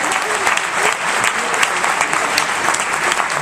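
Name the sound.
applause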